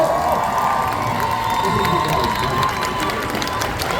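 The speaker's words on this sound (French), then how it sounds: "je vous demande de faire un tonnerre d'applaudissements pour Master, s'il vous plaît." A fan festival crowd in Paris cheers and claps for a guest, a dense, continuous roar of voices and applause close by, with shouts and whoops mixed in.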